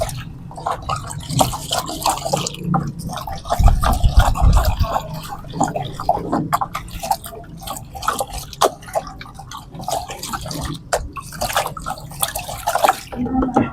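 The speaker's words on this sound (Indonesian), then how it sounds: "Untuk permulaan kita aduk sampai asam humatnya betul-betul tercampur semua." Humic acid being stirred into about five litres of water in a container, continuous sloshing and dripping liquid swirls, close and fairly loud, with irregular splashes and a brief heavier churn partway through.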